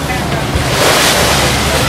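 Sea waves wash and churn around a boat heading to Ko Samet, Thailand, with steady wind rushing across the microphone in a continuous, fairly loud roar.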